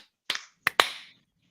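A small group claps on a count, producing three sharp, slightly ragged claps close to the mic that are not quite together, each with a brief room echo.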